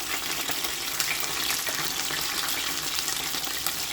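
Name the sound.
onions frying in a pan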